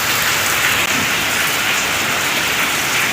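Steady rain falling beside a canal in rural Thailand, a dense, loud, even hiss of drops on surfaces with no pauses throughout.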